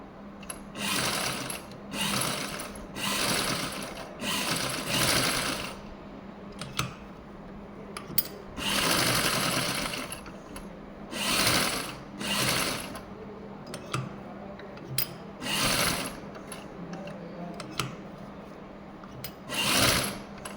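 A sewing machine stitches along the edge of a blouse sleeve in repeated short bursts of fast, rattling whirr separated by brief pauses, close and clear with no talking.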